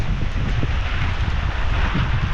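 Strong wind gusts through a cornfield, a constant loud roar of rushing air buffeting the microphone.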